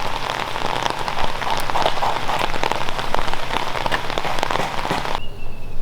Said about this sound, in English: As can be seen, it has rained.